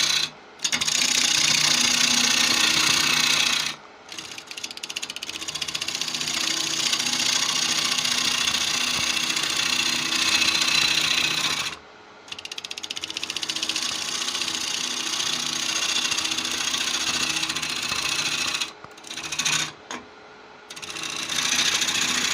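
A gouge cuts into an extremely dense bocote wood bowl spinning on a lathe, giving a loud, continuous scraping whine that stops briefly between passes, with no speech.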